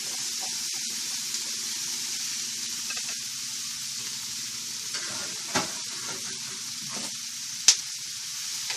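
Bratwurst and onions cook in melted butter in a pan, giving a steady, close sizzle with soft stirring scrapes throughout and a couple of brief sharper clicks near the end.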